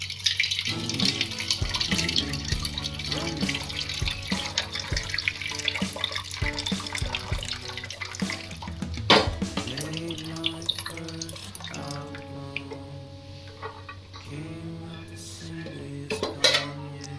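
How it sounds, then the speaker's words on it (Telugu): Cooking water is drained from boiled chickpeas in a kitchen, with continuous splashing and pouring mixed with clinks and knocks of pots and utensils over a sink. "ఈ ఎసురు ఉంటుంది కదా దాన్నంతా బాగా వంపేయాలి"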